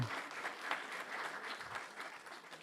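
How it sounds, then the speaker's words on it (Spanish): An audience applauds in acknowledgment, with a steady wash of many hands clapping at a moderate distance for the whole stretch. "el aplauso como reconocimiento"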